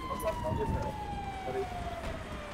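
An ambulance siren in the GTA 5 video game wails faintly from a distance, a steady falling tone under talk and game noise.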